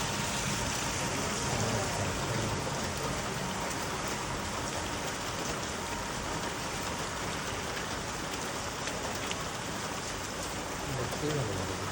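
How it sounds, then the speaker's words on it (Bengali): Steady rain falls outside a window, a dense, even hiss of drops on surfaces holding at a constant level throughout, with no voices. "তো চলুন আবার জানালা দিয়ে বৃষ্টি দেখি।"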